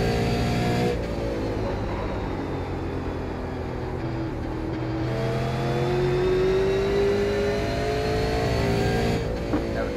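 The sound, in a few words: Super Late Model race car bottoming out, iRacing video game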